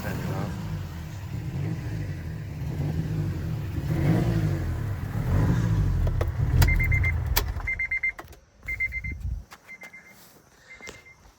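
A turbocharged Honda Element engine idles and revs in a garage, then shuts off and goes quiet, followed by several short beeping chimes, with someone talking over it.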